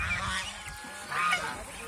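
Geese honking loudly and repeatedly nearby, a couple of harsh nasal calls overlapping, with no talking.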